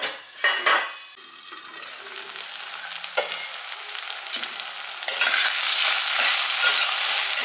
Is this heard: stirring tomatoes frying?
yes